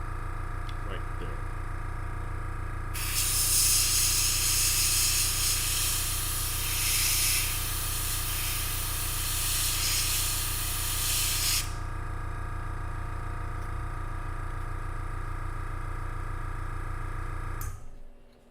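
An airbrush sprays paint onto a model in one long, steady hissing burst lasting several seconds, over a constant low compressor hum that continues after the spray stops.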